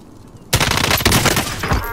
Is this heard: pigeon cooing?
no